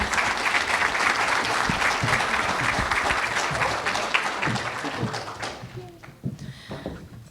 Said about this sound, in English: let's give one more round of applause for our 2025 Hall of Fame class